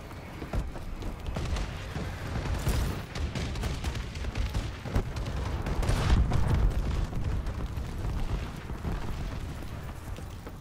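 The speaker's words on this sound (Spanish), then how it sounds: "Bombardeo aliado en curso." Allied airstrike bombardment in Call of Duty: Advanced Warfare, a dense continuous rumble of booms and explosions rolling on without a break and swelling louder partway through, with no talk over it.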